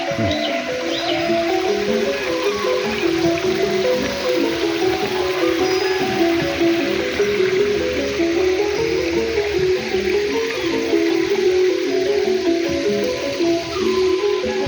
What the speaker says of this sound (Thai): ด้านข้างนี้ก็จะมีน้ำตกเล็ก ๆ อยู่